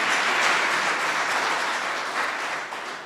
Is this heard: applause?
yes